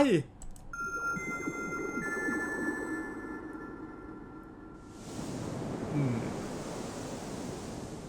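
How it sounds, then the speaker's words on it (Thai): Wind blowing in the video game Yabatanien (Acid Girls' Escape), a steady hiss over game music that swells into a louder broadband rush partway through, with a brief voice heard early on. "ลมพัด"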